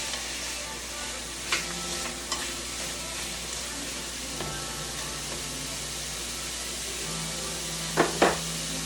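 Vegetables sizzle steadily in hot oil for a stir fry while tongs move them around the pan, the soft frying hiss broken by a few light clicks and scrapes of the tongs.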